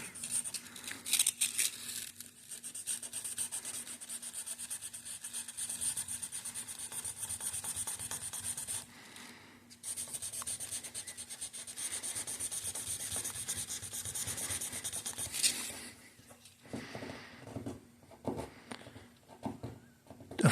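Sandpaper rubbing back and forth over deep scratches in the paint of a Tesla Model 3, a steady close hiss of continuous sanding strokes with brief pauses near the end.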